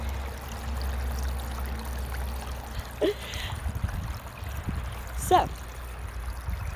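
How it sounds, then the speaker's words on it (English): A garden water fountain trickles and splashes steadily outdoors at a moderate distance, with a brief spoken word and a few small knocks over the running water. "My mom gave me a fountain."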